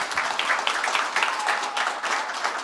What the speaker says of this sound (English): Can we give a round of applause to my panel?